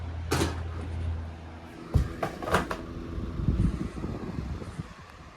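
A 9-inch box fan runs on its high setting, giving a steady low hum with a few close knocks and clicks over it.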